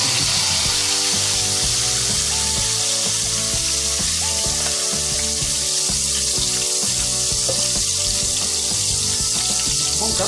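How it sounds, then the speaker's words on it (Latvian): Oil is poured back into a frying pan while cooking ratatouille, giving a steady hissing, sizzling wash that runs throughout the clip beneath background music, with no talking. "Eļļu lejam atpakaļ pannā."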